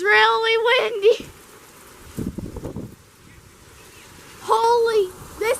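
Heavy rain and gusty wind lash down in a thunderstorm, a broad steady roar that swells in the middle, while excited voices exclaim near the start and end.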